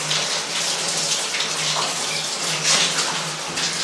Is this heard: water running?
yes